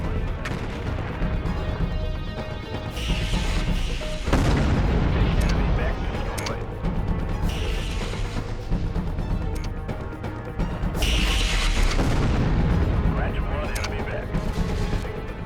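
Explosions and weapon fire in the video game MechCommander 2, repeated heavy booms and blasts layered over dense battle noise, loud and continuous across the stretch, with someone talking over parts of it.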